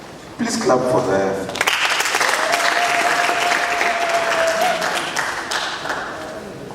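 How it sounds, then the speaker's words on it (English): Loud audience applause at a ceremony where guests are called to the stage, starting abruptly and sustaining as a dense wash of many hands clapping, with a brief voice over it early on before tapering slightly at the end. "Clap for them."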